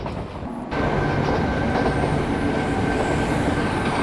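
The Sabari Express, hauled by locomotive 17230, runs in Train Simulator 2022 (Railworks). Its loud, steady rail rumble and clickety-clack wheel noise cut in abruptly and continue without a break.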